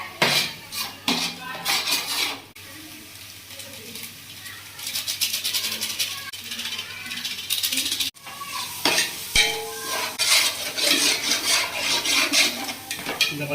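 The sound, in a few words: green chillies frying in masala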